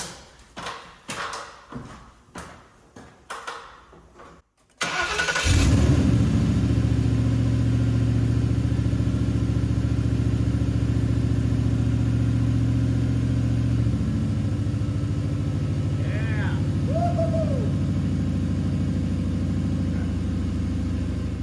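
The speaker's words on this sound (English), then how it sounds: "Time to fire up our engine and make sure we don't have any leaks." An old truck engine cranks over in several choppy, uneven bursts, then catches and starts, settling into a loud, steady idle close by with a brief change in pitch partway through.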